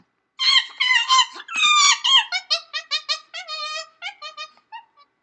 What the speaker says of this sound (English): let's hear what the chimpanzee has to say about it.